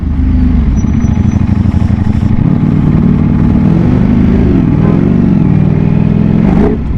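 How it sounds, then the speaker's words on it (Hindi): An inline-four motorcycle engine, on a bike alongside a Kawasaki ZX-10R and a Ducati Panigale V4, revs at low rpm close by: a loud continuous throbbing burble that rises and falls in pitch, then drops away at the end. "देख रहे हो लो आरपीएम पे भी भाई ऐसे रेस देते धक धक धक"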